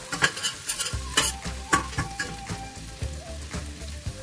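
A whole head of garlic sautés in a pan, giving a quiet, even sizzle broken by a regular run of stirring scrapes and light knocks against the pan, close by and without speech.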